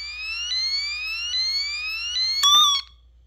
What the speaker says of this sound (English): whenever you touch them together, the tone is going to change.